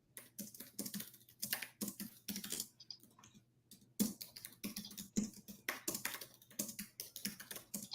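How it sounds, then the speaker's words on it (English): Close, rapid typing on a computer keyboard, bursts of crisp key clicks with a brief pause midway before the tapping resumes, over a faint steady hum. "I'm just typing something in here to see."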